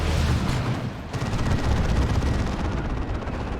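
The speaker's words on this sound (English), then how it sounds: "Oh, that's Emperor's Wrath. from the Lord Commissar off-map artillery." The Lord Commissar's off-map artillery strike in Dawn of War 2 pounds in as a dense, rumbling barrage of explosions and heavy blasts, loud and continuous, with no talk over it.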